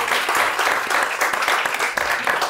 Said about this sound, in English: So let's applaud her for a second.